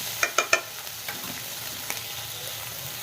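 Curry leaves and green chilli-garlic paste hit hot oil with three quick spattering crackles, then settle into a soft, steady sizzle.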